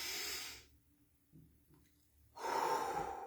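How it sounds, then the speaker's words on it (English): Slow, deep diaphragmatic breaths taken close to the microphone: a long airy inhale, a quiet pause, then a strong hissing exhale. "closing your eyes, doing some deep breaths, sitting in the space, taking deep diaphragmatic breaths."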